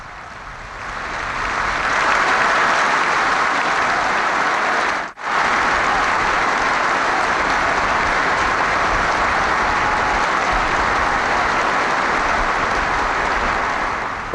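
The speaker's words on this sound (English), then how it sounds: "There was a minute's applause before kick-off" Football fans in a stadium give a minute's applause before kick-off in memory of a player, a sustained roaring wash of clapping from a large crowd that swells in and holds steady, broken by one brief cut.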